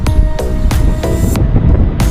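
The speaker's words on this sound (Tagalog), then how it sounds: "Mahangin." Steady wind at the seashore rushing and buffeting across the microphone, continuous and loud throughout, with some broadband gusty noise.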